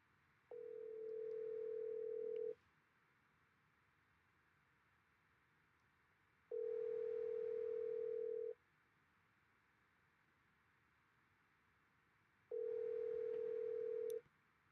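A telephone call rings out through the earpiece: three evenly spaced ringback tones, each about two seconds long with four-second gaps, thin and moderately loud over a faint hiss.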